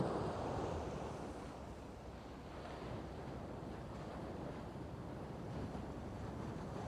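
Sea waves roll and break with white foam along a Scottish Highlands coast, a continuous distant surf wash mixed with steady wind rumble, faint and unbroken.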